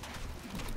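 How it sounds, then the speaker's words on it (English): Cooing, bird-like calls from a terror bird creature in the video game ELEX, a short continuous burst of low warbling cries that sounds fairly close and carries no talk over it. "Yeah, terror birds."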